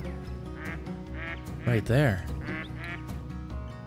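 A tufted duck in the hunting game Call of the Wild gives a short run of loud nasal quacks over layered in-game ambience, while someone speaks briefly.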